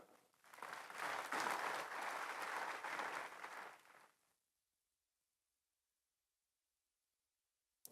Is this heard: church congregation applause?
yes